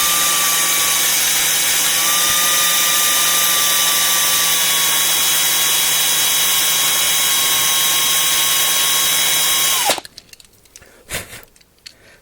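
A power drill drilling out a 1/64 scale NASCAR diecast car, a loud steady whine held close for about ten seconds before cutting off, followed by a few small clicks and handling noises.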